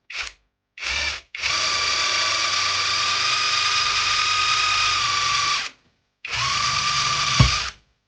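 A power drill with a 3mm bit drills into a printer ink cartridge, whirring loud and close in short bursts, then running steadily for several seconds, stopping, and starting again in another burst.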